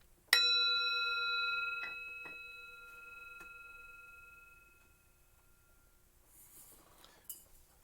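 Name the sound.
meditation bell being rung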